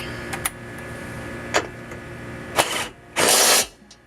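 A power tool tightens a bolt on the rear end support of a 2015 Chevy Cruze, with several brief clicks and bursts and then a loud whirring run of about half a second, close by, with no talk.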